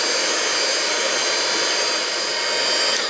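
A heat gun blows hot air onto a Creaflexx thermoplastic sheet to soften it for bending, a loud, steady, close-up roaring hiss that holds unbroken for the whole stretch.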